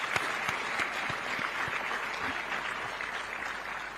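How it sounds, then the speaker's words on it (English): Audience applause at a private sector day event in Zambia, steady dense clapping from a crowd for the sponsors, sustained throughout with no talking. "Can we clap for all other sponsors?"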